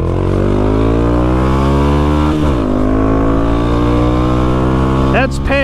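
Honda Grom motorcycle engine held at full throttle, a loud steady buzzing drone that dips briefly mid-ride then climbs again, with a short horn-like chirp near the end.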